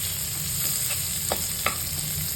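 Spring onion greens and green chili stir-fry in a little oil, a steady close sizzle with a few soft scraping stirs of the spoon breaking through, and no talking.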